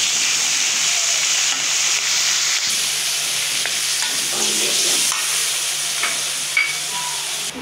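Spices hit hot oil in a pan, a loud, continuous close sizzle with soft stirring rubs and brief scraping accents, no voices over it.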